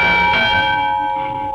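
A single large church bell rings out loud and near, its strong struck tone sustaining with layered overtones and slowly fading, with no talking.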